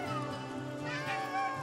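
A cat meows in the video game Stray, a steady, drawn-out harmonic cry that rises in the middle and carries on for nearly two seconds at moderate level, with no talking.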